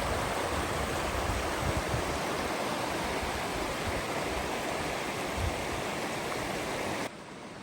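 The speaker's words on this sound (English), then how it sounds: "This is a year-round creek that runs down through the middle of our property." A year-round creek running through wooded cabin property gives a steady, close, rushing flow that holds constant before dropping off abruptly near the end.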